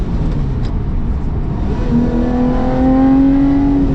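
A Lotus sports car engine, one of the Exige Final Edition, Evora 410 or Elise, accelerates from inside the cabin, a loud steady drone rising in pitch through the last couple of seconds.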